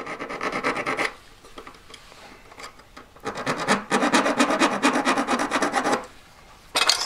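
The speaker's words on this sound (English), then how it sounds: "So I get my half round, again line it up. I'm not filing the top or the back of the shank, just taking" A half-round file rasps across the metal shank of a three-stone ring in close, rhythmic bursts of scraping strokes, broken by short pauses between passes.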